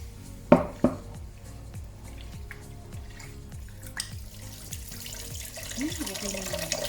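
Rice being washed in water at a sink: close sloshing and splashing with a couple of sharp knocks near the start, then trickling and dripping water. Quiet talk runs underneath.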